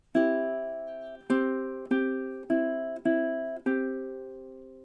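A ukulele picks the Day-O (Banana Boat Song) melody of measure 18, six evenly spaced plucked notes ringing briefly, close and quiet, with no one talking.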